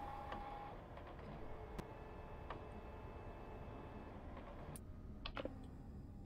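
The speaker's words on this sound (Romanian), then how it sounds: "Mă trebuie să printez astea, fac gălăgie rău." A printer in the Freddy Fazbear's Pizzeria Simulator video game runs with a quiet mechanical whir, punctuated by scattered sharp clicks and ticks, with no talking.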